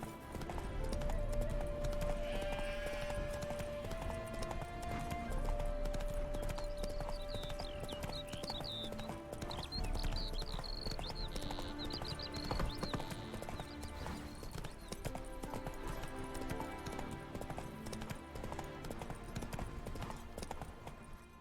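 Roach the horse gallops in The Witcher 3 with steady, close clip-clop hoofbeats throughout, under a sustained musical score with a brief whinny, and no speech.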